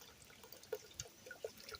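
Hydrogen peroxide is poured into acid holding SD cards, giving faint, sparse splashes and small drips in a quiet room.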